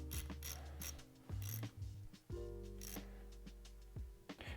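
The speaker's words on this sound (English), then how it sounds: "if you're using a wrench like us to tighten these screws" Close metallic ratcheting of a wrench tightening the screws on a Yamaha PW50 clutch, with several quick clicking bursts separated by short pauses and steady low mechanical rumble beneath.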